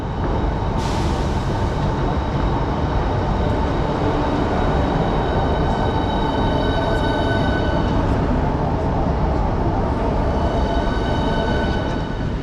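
A regional train at a station platform gives a loud, steady rumble of wheels and machinery with sustained high squealing tones and a sharp hiss near the start, continuous throughout with no talk.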